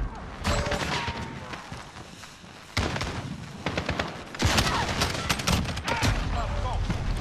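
Rapid bursts of gunfire in the shooter game Modern Warfare, including FAMAS rifle fire, with dense cracking volleys and sharp single shots close by and a player's voice talking over the firing.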